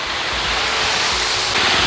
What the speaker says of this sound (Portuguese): Olha aqui a cachoeira artificial.